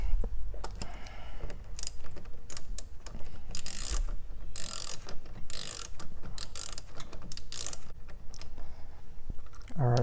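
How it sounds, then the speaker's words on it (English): A screw on the battery of a 2017 Toyota RAV4 is turned out with a hand tool, giving a series of close, quick ratcheting clicks in short irregular bursts with no talking. "Let's unscrew the screw a little bit more."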